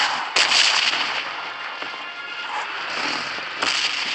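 Explosions in the red zone of PUBG Mobile, with loud cracking blasts and a continuous crackling rumble, sharp bangs near the start and end, and no talking.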